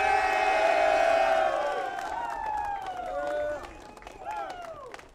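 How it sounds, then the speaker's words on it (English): Graduates at a military academy commencement cheer and clap, with whoops and shouting voices rising over scattered applause from a large crowd, loud at first and then tapering. "Let's clap it up for your family and friends that have supported you on this journey."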